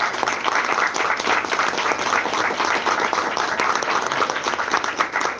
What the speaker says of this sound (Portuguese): Então vamos aplaudir o papai pela revelação.